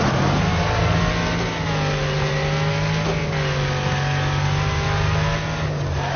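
A race car engine in Wreckfest, driven with manual transmission, roars loud and close, its pitch sweeping down through successive downshifts and rising again under sustained revving, with no talk.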